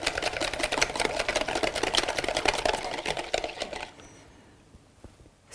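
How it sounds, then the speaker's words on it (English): Whisking eggs with salt and pepper in a bowl for Iranian potato kuku: a rapid, steady clatter of a whisk against the bowl, fairly close, that stops abruptly partway through and leaves near silence. "And I'll continue the whisking maybe for 2 minutes."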